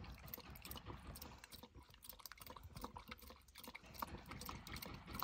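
A cheetah laps tap water straight from the faucet with quick, soft, irregular wet laps and splashes over a faint running-water trickle, heard close and quiet.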